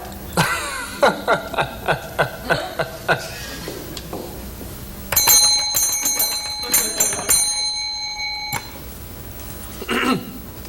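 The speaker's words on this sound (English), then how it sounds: "Aren't you going to ask me why I rang that bell?" A small bell is rung repeatedly in bright metallic dings, first in a rapid even series, then a louder ringing burst that rings out, followed by a few more strikes, heard fairly close in a quiet room.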